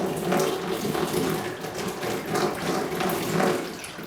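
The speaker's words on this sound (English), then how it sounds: "pour more water in the last time" Steady splashing and trickling of water poured onto a Mac Studio computer, continuous and fairly loud, with no voices, like liquid hitting a hard surface.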